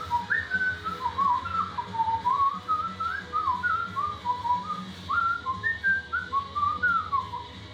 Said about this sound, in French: J'essaye de siffler pour camoufler la musique pour pas qu'on la reconnaisse.